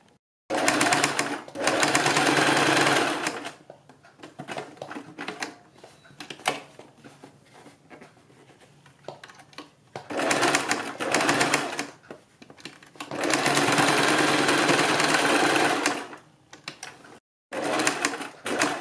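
A sewing machine stitches a strip onto a bell sleeve in several bursts of steady, rapid needle chatter, separated by pauses with softer handling noises.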